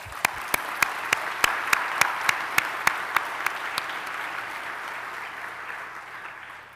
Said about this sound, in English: Please join me in applauding our graduates to pay tribute to you.